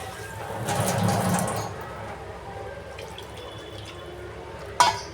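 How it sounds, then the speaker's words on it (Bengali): Water is poured into a pan of rui fish curry in a brief splashy gush of about a second, followed by a quiet simmering hiss and a sharp clink of a utensil near the end. "পরিমাণ মতো আমি আমার জল দিয়ে দিলাম"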